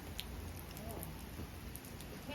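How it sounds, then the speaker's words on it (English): Rain falls steadily outdoors with a dense, even hiss and patter, faint and continuous, with scattered drip sounds throughout. "The rain's coming back."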